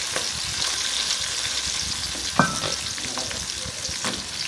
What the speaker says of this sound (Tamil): எண்ணெய் சூடாகி கடுகு விற்பனை பொரிய ஆரம்பிச்சிட்டு அடுத்து வந்து அடுத்து வந்து வெங்காயம் கருவேப்பிலை அடுத்து வெள்ளைப்பூடு